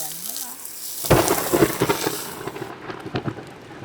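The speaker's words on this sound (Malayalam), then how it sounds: "മഴയാ" Rain falls outside a Kerala home kitchen, a heavy hiss with a sudden loud thunderclap and rumbling, steady downpour continuing after, fairly close.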